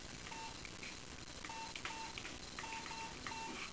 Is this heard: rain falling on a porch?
no